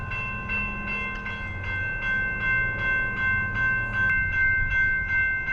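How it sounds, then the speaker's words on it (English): A freight train backs up along a city street track by a waterfront, its cars clanking and rumbling in a steady rhythm, loud and close, with a tonal whine running through it. "there's a train stopped in the way"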